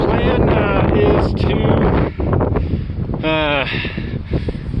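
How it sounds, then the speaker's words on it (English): Heavy wind buffets the microphone in loud rumbling gusts at Devils Tower, with a voice briefly speaking partway through. "as you can see, it's a little bit windy"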